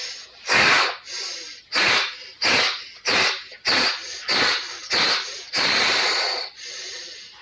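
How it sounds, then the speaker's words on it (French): A person takes about ten forceful deep breaths in a steady rhythm, each a loud, close rush of air with short pauses between, ending in one longer exhale. "vous allez faire quelques respirations profondes"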